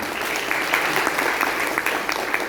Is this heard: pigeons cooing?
no